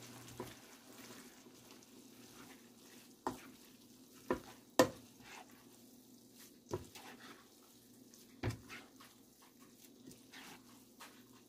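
Pancit bihon rice noodles stirred in a pan with tongs, giving a run of sharp clicks and scrapes against the pan over a soft, steady frying sizzle and low hum.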